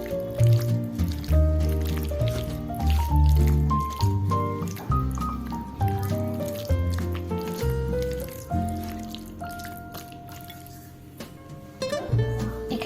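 Marinated chicken for kathi kebab is mixed by hand with a little white oil, giving wet squelching and squishing under soft background music with melodic notes.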